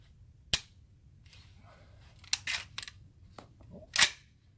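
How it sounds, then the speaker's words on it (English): Suppressed Q Honey Badger rifle in 300 Blackout firing 220-grain subsonic full metal jacket rounds into sand, giving several quiet, sharp snapping reports spaced irregularly over a few seconds in an otherwise calm outdoor setting. "I'm just going to shoot into the sand so you can hear how quiet it is."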